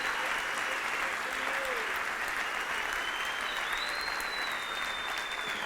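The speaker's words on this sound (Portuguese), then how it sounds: "Você pode aplaudir bem forte" Loud, steady applause fills a church as the congregation claps hard together, a thick unbroken roar of hands, with a faint voice or tone drifting over it.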